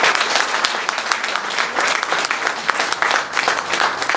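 Seminar audience in Nepal applauding together, a loud, dense wash of many hands clapping continuously and evenly throughout.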